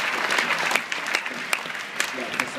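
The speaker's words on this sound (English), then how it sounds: "you guys should give yourselves a round of applause" An audience applauds steadily, a broad wash of clapping with a few sharper claps standing out, and faint voices underneath.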